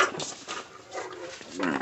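A frightened dog sitting outside a house in a Chhattisgarh village gives short whimpers and snuffling sounds, close by, mixed with people talking.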